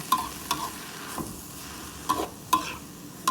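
Fermented soybean paste stir-fried in a pan, with a low steady sizzle broken by several sharp spatula scrapes and taps spaced irregularly.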